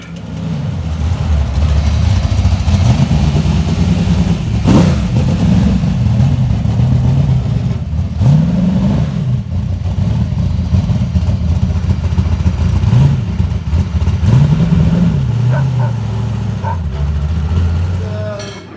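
Race car engines rev and rumble together at the start of a race, a loud, continuous near roar with repeated rising and falling engine pitches over about eighteen seconds.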